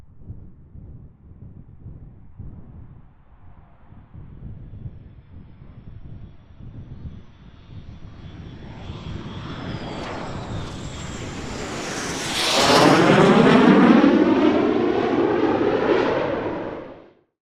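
A NASA test airplane builds from a distant rumble to a loud roaring pass overhead, peaking near the end with a sweeping engine drone before cutting off; no voices.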